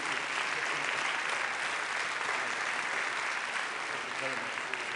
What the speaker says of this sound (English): Please join me in applauding this wonderful panel.